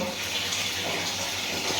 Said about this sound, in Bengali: তাড়াতাড়ি আর একটু পানি গায়ে দাও